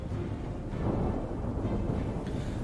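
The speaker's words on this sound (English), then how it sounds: "although it's raining, which helps" Steady heavy rain with rumbling thunder during a battle in Total War Saga: Thrones of Britannia, a continuous loud wash of rainfall over deep low rolling rumble throughout.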